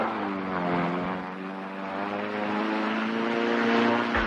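A model aeroplane engine buzzes continuously in a high, whining drone that wavers slightly in pitch, moderately loud and alone.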